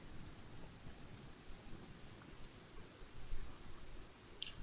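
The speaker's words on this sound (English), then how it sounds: "Taking a stroll in the middle of a downpour." A steady downpour of rain falls in the video game Genshin Impact, a soft, even hiss of rain continuing quietly throughout without talk.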